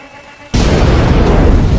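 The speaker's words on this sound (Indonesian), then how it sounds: "harus mengambil keputusan nekat untuk meledakkan dirinya sendiri" A loud, sudden explosion erupts after a quiet half-second, as a character blows himself up in a dark horror film, the blast roaring on with a dense, sustained rumble.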